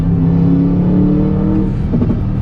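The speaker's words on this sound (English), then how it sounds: "It's a 4-liter twin turbocharged V8 engine making 542 horsepower and 516 pound-feet of torque" An Aston Martin DBX's 4-liter twin-turbo V8 drones with a deep, steady rumble that swells slightly toward the end, loud and close with no voices over it.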